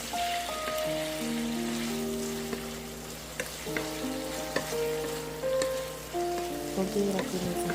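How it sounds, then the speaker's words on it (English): Salmon and shrimp seasoned with salt and soy sauce searing in a pan, a steady close sizzle with crackles and scattered pops while the food is stirred. "You want it to be crispy, so sear it until it's crispy"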